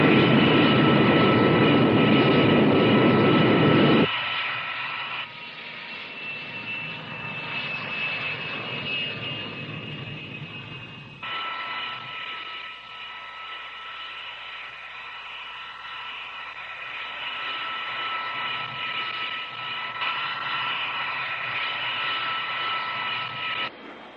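An X-15 rocket plane flying at Mach 5, shown in a 1961 film, gives a loud, steady roaring drone that drops to a quieter engine hum after a few seconds and holds without speech.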